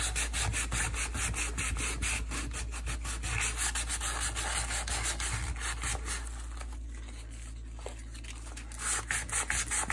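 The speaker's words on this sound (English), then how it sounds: "sandpaper." Sandpaper is rubbed by hand over plastic in rapid back-and-forth strokes, making a close, rhythmic, gritty scratching that continues steadily and briefly eases midway.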